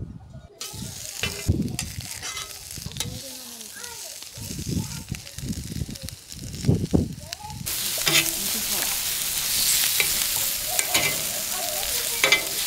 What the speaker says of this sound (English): that's where we're gonna saute our vegetables